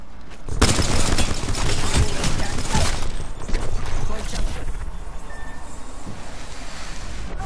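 In a video game, dense, rapid automatic gunfire rattles loud and close for several seconds, then thins into scattered shots and mechanical noise.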